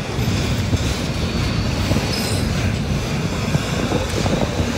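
A heavy freight train rumbles steadily past on the tracks while changing tracks, with constant wheel roar, faint clacking and occasional squeals, loud and close throughout.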